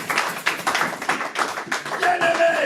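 A church congregation claps along in a steady, rhythmic beat, with sharp, loud hand claps repeating quickly throughout.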